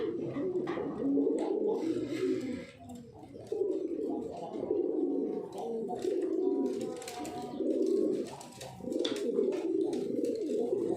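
A racing pigeon coos in repeated low, throaty phrases with short pauses between them, close and clear, with no other sound standing out.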